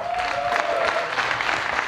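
A live comedy roast audience gives a steady, moderately loud round of applause throughout, with faint crowd murmur mixed in.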